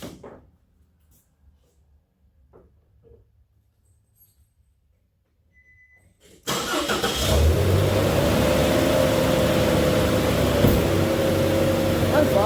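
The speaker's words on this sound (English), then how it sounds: "I didn't have one of me starting the Nissan to be sure it was okay" 2006 Nissan Frontier with a 2.5 QR25DE engine, just after head and timing chain repair, cranking and firing up abruptly after a few quiet rustles, then running loud with rising revs and steady idle; a voice speaks briefly.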